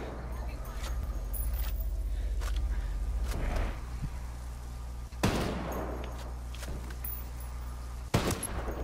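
Gunfire rings out in a Ghost War PvP video game match, with a few sharp shots and bursts cutting through a steady rumble of game noise, while voices are heard in the background.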